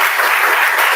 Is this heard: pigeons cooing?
no